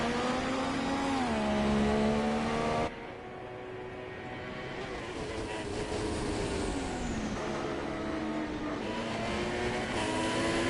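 Formula 3 race cars lapping the Italian Grand Prix circuit in a racing video game, with engines droning and shifting pitch as they accelerate and pass, a steady loud mechanical whine throughout.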